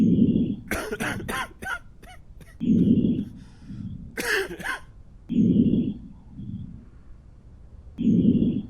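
Sick character in the game Quarantine Zone coughs in repeated harsh bursts, a quick cluster early on and another mid-clip, separated by low rumbling breaths and background hum.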